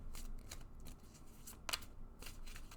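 Tarot cards are shuffled by hand in quick, soft riffling bursts with short pauses between them. The sound is quiet and close, with one sharper snap near the middle.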